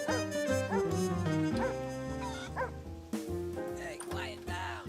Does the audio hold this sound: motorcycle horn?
no